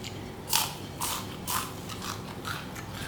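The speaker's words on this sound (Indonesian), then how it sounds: "Jadi emang sensasinya tuh luarnya tuh garing, bukan lagi renyah tapi garing ya." Crispy fried long tofu, golden and crunchy outside and soft inside, is bitten several times in a row. It gives about five sharp crunches spaced roughly half a second apart, close and clear, with no talking.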